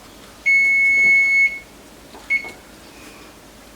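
A kitchen timer beeps in a home kitchen during jam canning with a steam canner, one long electronic tone followed by a short second beep against quiet room noise.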